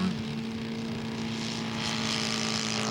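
Scale model Fokker aircraft taking off at a model airplane show, its engine droning steadily with a buzzing whine that swells slightly as it climbs, heard throughout with no talk.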